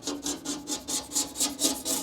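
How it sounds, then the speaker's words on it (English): Scraping blue paint off a 1968 Dodge truck, a rapid rasping back-and-forth scrape repeating about four times a second, close and steady. "You can scrape the blue paint off."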